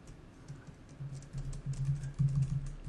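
Someone types code on a computer keyboard, a steady run of quiet, close key clicks that grow denser and slightly louder toward the end.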